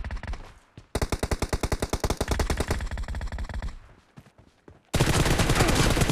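Rapid automatic gunfire in the BGMI mobile shooter game, loud bursts of fast regular shots broken by short pauses, then a sudden dense wall of firing at the end.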